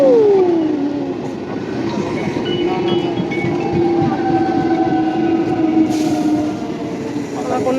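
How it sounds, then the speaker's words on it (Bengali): A train rolls into a station in India, its low steady rumble of wheels and carriages filling the whole stretch, with a descending squeal at the start and a faint brake whine drawn out near the end. "এসে গেছে আমাদের ট্রেন।"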